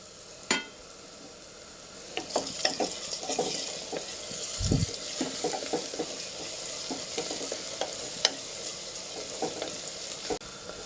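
Chopped onions and green chillies fry in hot oil for a chicken and drumstick curry, a continuous sizzle broken by frequent scraping stirs and clinks of a spoon against the pan.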